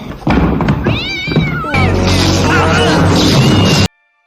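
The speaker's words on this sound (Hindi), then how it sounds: "कैटजिला नाम की एक खतरनाक बिल्ली घर में लाकर छोड़ देते हैं" A cat in the comedy film Mousehunt meows loudly with rising, wavering cries, mixed with thumps, crashes and busy film sound before cutting off abruptly.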